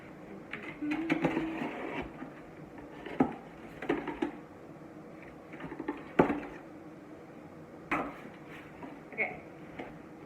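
A cardboard diet food delivery box is opened and emptied, with scattered rustles, knocks and light clatters of packets coming and going at a quiet, close level.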